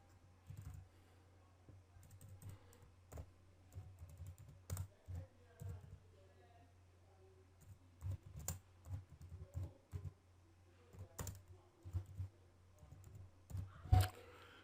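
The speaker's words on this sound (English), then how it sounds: "let's just type anything here" Keys tapped on a computer keyboard while filling in a form on a banking website, delivered as quiet, irregular bursts of clicks with short pauses between, one sharper keystroke near the end, and no talking.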